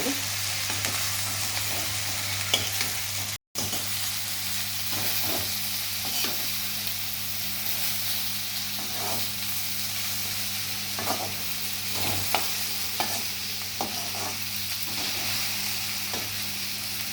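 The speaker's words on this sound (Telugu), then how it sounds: "మెండకాయలన్నీ పైకి కిందకి వేసి కలుపుకోవాలి" Okra curry being stirred in a pan, a steady sizzle of frying under repeated spatula scrapes and taps, close and continuous with one brief dropout early on.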